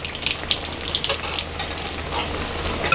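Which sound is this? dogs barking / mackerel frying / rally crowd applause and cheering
mackerel frying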